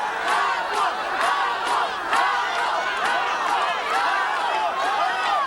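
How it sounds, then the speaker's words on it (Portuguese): A crowd of fans chants and shouts during a boxing match, a loud, continuous wall of massed voices with rhythmic rising cries repeating about every second. "E durante todo o combate, se ouvia o grito da torcida."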